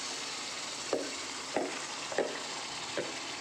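Marinated mutton frying in oil with cooked-down masala, a steady sizzle broken by four evenly spaced scraping stirs of a spoon against the pan.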